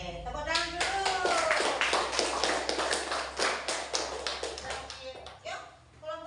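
A classroom of primary school students claps for a student group, brisk sharp hand claps in a quick rhythm that build and then thin out near the end, close and fairly loud.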